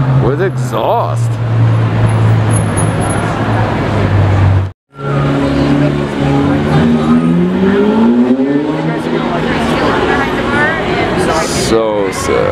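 A loud Ferrari F8 engine revs and roars through its exhaust nearby, its pitch rising and falling, with excited voices talking over it.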